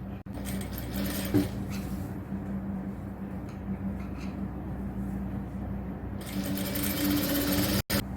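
A sewing machine stitches a folded fabric edge on a nighty in a steady, close whirring run that pauses briefly near the end.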